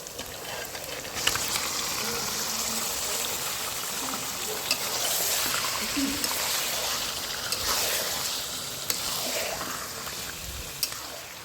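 Marinated chicken hits a pan of fried ginger and garlic for Kolkata-style biryani, frying in a steady, loud broadband sizzle with occasional stirring clicks throughout.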